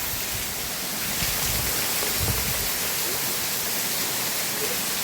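Torrential rain pours down around a house in a steady, full roar of water, loud and continuous, with a few low thumps mixed into the downpour and no voices.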